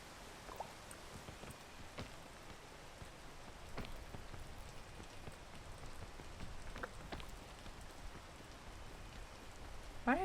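Steady rain patters across surfaces in the climbing video game PEAK, a dense, even hiss of drops with a few sharper ticks, lasting throughout with no voices.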